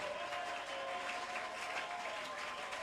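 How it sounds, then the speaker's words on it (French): A church congregation claps at a Sunday service, a steady wash of applause at moderate distance with a faint sustained tone running beneath it, no clear speech. "Tu sais pourquoi tu es en train d'acclamer."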